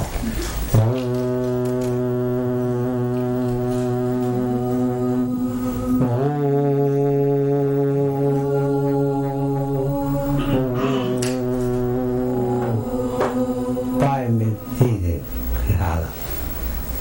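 A meditation tape plays Nadam, the inner sound: a sustained, droning tone with layered steady harmonics that hold for long stretches and shift pitch a few times, loud and continuous throughout.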